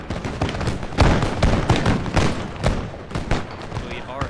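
Musket volleys crackle in ragged bursts in a Total War Empire battle as a general's unit takes fire, sharp overlapping reports piling up over several seconds with no one talking.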